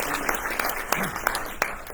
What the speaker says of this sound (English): Well, a round of applause for Vicky Said